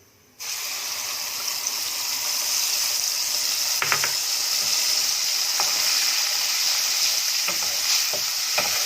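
Ginger and garlic frying in oil inside an instant pot, a loud steady sizzle that starts abruptly and holds throughout, with occasional light stirring clinks over it.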